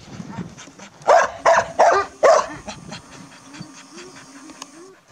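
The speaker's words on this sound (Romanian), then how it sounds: "Frumos Border Collie." A Border Collie on a sheep farm gives four loud, close barks in quick succession, then pants and whimpers softly.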